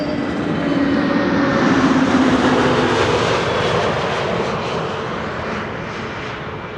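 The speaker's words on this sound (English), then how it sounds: "EasyJet having arrived from Krakow, A320neo." EasyJet Airbus A320neo arriving from Krakow at Amsterdam Schiphol Airport, a loud, close jet engine roar that swells early and then gradually eases off toward the end, with no talking.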